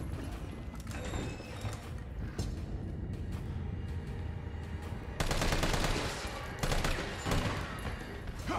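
Gunfire in Resident Evil 3, rapid rattling shots that grow denser and louder partway through, over a steady rumbling game background.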